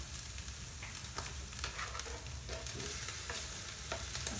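Tomatoes hit a hot pan and sizzle steadily while a utensil stirs and scrapes through them, the frying hiss continuous and fairly quiet, with no talk.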